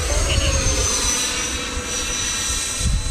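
An RC F-14 model jet flies close by, with a loud, steady electric-ducted-fan whine and rush filling the whole stretch.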